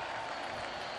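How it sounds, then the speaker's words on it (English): A cricket crowd at a Twenty20 quarter-final between Glamorgan and Yorkshire roars and applauds a catch, a dense, loud, continuous wash of clapping and cheering filling the whole moment. "I think it's the biggest cheer of the night for the locals."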